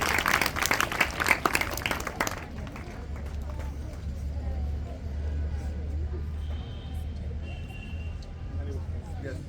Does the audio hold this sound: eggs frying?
no